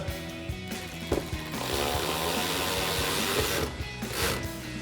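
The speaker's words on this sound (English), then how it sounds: "Now we'll get our rear T15 screw in place" A T15 screw driven into a Rough Country fender flare on a 2019-2025 Silverado 1500, with close mechanical whirring and ratcheting clicks, a sustained driving burst in the middle and a few short bursts around it.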